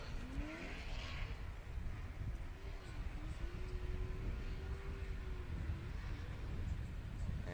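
A Formula Drift Pro 2 car driven by Robbie Nishida warms its tires at Texas Motor Speedway. Its engine drones steadily at a distance, rising and dipping in pitch over a broad outdoor noise bed.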